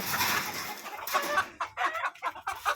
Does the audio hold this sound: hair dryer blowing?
no